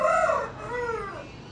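An Aseel rooster crows once nearby, a loud, drawn-out call that rises and then trails off.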